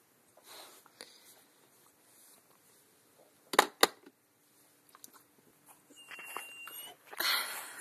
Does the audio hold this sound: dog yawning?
yes